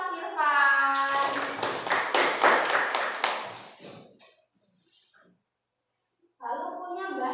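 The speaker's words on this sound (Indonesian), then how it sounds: "Tepuk tangan untuk Mas Irfan." Students clapping in a classroom for a classmate, a short burst of quick sharp claps in steady rhythm after a teacher's voice, fading to silence before the voice returns.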